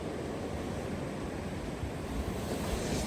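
Stormy sea at night, around 3 a.m., on a rock along the coast: a steady roar of surf and crashing waves with wind buffeting the microphone, continuous and close, with no voices.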